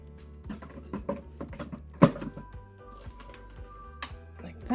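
A Breville food processor fitted with a dicing blade is assembled and shut: a series of light plastic clicks and taps, then one sharp louder clack, with a few softer knocks afterward.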